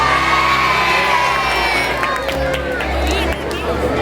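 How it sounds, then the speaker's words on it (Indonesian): Children at a state elementary school's Prophet Muhammad birthday commemoration clapping and cheering loudly, a busy mix of claps, shouts and whoops from a crowd, with voices chattering through it. "Tepuk tangan semuanya, tepuk tangan"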